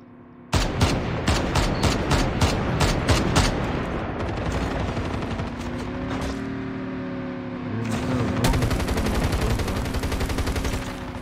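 In the mobile shooter Call of Duty: Mobile, a rapid string of loud gunshots rings out, followed by continuing battle noise and engine-like rumble.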